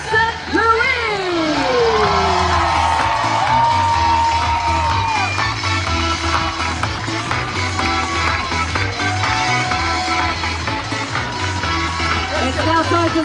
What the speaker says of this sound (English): a big shout, cheer, round of applause for our champion of the Super League Triathlon